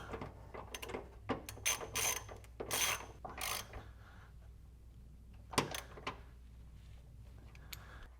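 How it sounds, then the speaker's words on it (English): A ratchet clicks in quick bursts up close while snugging down brace bolts during a front sway bar install on an MK8 Volkswagen GTI, with short pauses between runs and no talking. "Then I'll get the bolt snug down."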